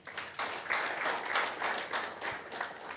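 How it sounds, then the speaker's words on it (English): An audience at an ELP scholars' alumni gathering breaks into applause, a full, steady burst of many people clapping with slight swells in intensity, heard from a moderate distance without speech over it. "Can we clap for that?"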